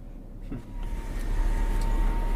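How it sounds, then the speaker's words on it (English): A car idles and creeps forward toward school gates, a low steady engine rumble that swells slightly as it moves, with faint background noise and no talking. "Emilio's car inches forward to the school gates."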